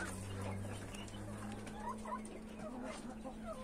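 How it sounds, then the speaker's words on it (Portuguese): A chicken clucks among a backyard flock on a Brazilian farm, several soft, scattered clucks over steady low background hum with a faint voice in the mix. "essa galinha aqui, galera"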